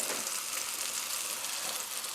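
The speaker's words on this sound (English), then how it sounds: "it's sizzling when I dropped them in there." Pork chops sizzle in a frying pan, a steady bright crackling hiss at moderate volume that runs unbroken with no talk.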